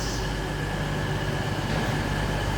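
A train at Nottingham station, with a steady low rumble and hum of rolling stock and a continuous broadband din throughout, fairly loud and close, with no talk.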